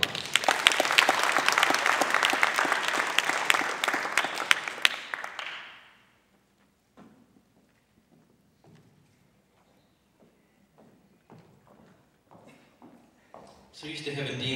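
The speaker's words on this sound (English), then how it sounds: "Give these guys a big round of applause." Applause from an audience at a hypnotist show, dense and steady for about five seconds, then dying away into near silence with a few faint scattered claps and taps before a voice returns.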